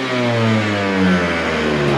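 A KTM two-stroke motorcycle engine runs on 40:1 premix fuel, a steady close mid-pitched drone with slight revving swells throughout.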